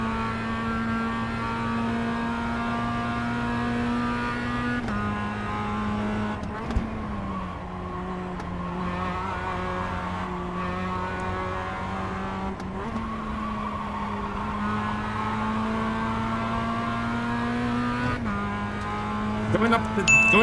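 A Mazda MX-5 race car engine runs flat out in a racing video game, holding a steady high drone with brief dips at gear changes, continuous and fairly quiet with no speech.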